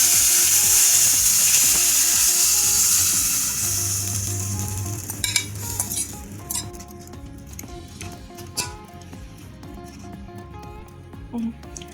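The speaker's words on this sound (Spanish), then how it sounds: "Ya nuestra carne está sellada y ahora vamos a proceder a colocar lo de la maceración." Seared beef sizzles and fries loudly in a pan, with a sharp hiss fading as marinade is poured in, followed by scattered clinks and scraping over a softer ongoing sizzle.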